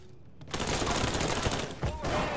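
Gunfire in Mafia 3, a sustained volley of rapid shots erupting after a quiet opening and continuing loud and dense to the end.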